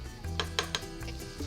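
Greens are stirred into a pot with a spoon, producing several close, sharp metallic clinks against the pot in an uneven rhythm over a low background hum, no voices.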